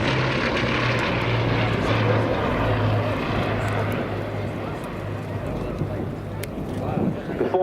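Twin piston engines of a Bristol Blenheim Mark I, the short-nosed fighter-configured propeller bomber at RAF Cosford, drone steadily and loudly throughout with a pulsing low throb, while a voice speaks over the engine noise.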